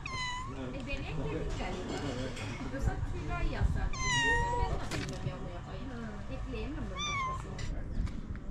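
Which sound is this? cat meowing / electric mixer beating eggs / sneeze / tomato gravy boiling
cat meowing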